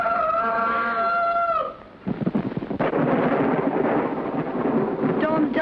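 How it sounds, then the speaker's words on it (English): A thunderstorm rages outside an old dark house: a long rumble gives way to a sharp, loud thunderclap, followed by heavy rumbling and rain, with a brief tonal sound at the start and near the end. "Storm's just as bad as ever, isn't it?"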